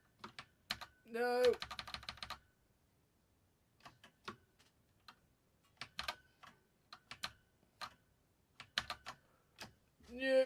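Computer keyboard keys clacking in scattered bursts and single presses, including the spacebar and control key, close and crisp, with brief speech mixed in between the taps.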